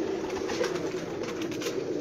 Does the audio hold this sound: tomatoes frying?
no